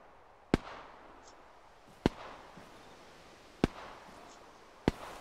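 Four sharp, isolated gunshots from Arma 3 co-op combat against militia in a village, evenly spaced about a second and a half apart, distant-sounding over a low ambient bed.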